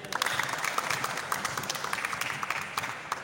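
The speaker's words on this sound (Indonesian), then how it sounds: "Tepuk tangan dulu." A group of players clapping their hands together during basketball coaching drills in a gym, a light, scattered patter of claps heard at a distance, fairly faint and uneven.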